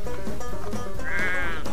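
Sheep in The Sheep Game video game bleat loudly and close, with one long wavering bleat near the end over steady game background noise.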